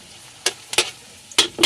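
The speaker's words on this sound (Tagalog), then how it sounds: "Kailangan din natin igisa yung sili para siya umani anghang." Long green chili peppers sautéed in a pan, a few short, sharp scrapes and sizzling bursts from the spatula over a quiet background.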